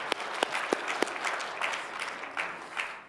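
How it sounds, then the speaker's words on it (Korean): A church congregation claps to welcome a first-time visitor during Sunday worship, a short round of moderate applause with a few sharp individual claps standing out near the start. "우리 박수로 환영하겠습니다."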